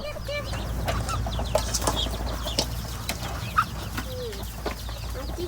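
Chickens clucking and ducks quacking in a village yard, with scattered calls and wing flaps over constant low rumbling background noise; calls overlap in a busy, continuous chorus.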